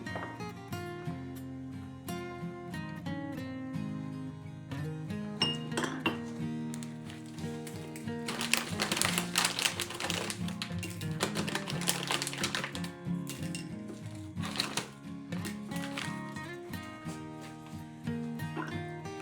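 Ingredients for wild garlic pesto are chopped with a knife, giving quick, irregular taps and clinks on a board, with denser bursts midway and quiet tonal music underneath.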